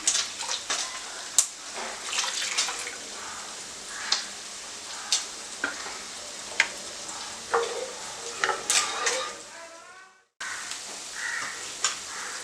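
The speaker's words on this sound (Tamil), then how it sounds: "நான் தேங்காய் பாலும் வந்து இதில் ஊற்றி விடுறேன்" Coconut milk is poured into a simmering paneer white kurma, bringing soft bubbling and sizzling with scattered clinks of a spoon against the pan, close and moderately quiet, ending in a brief cutoff before the cooking noise resumes.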